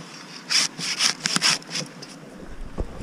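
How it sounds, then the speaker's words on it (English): A STIHL MSA 160 T battery chainsaw cuts through wood in a few short bursts of rasping, buzzing cutting, fairly close and loud, then trails off to a quiet background. "Well, hey, we got the battery saw."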